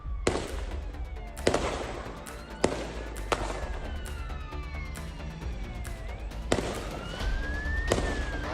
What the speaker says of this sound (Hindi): सिडनी के बॉन्डी बीच में अंधाधुंध फायरिंग हो रही है।